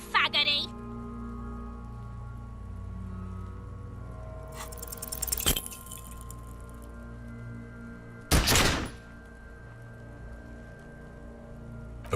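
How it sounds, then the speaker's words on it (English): A pistol shot rings out in the Disco Elysium video game, a sharp loud crack followed by a brief ringing burst, set among a murky ambient backdrop with another short noisy burst earlier. "A plume of smoke erupts from the barrel. Your hand goes numb from the explosion."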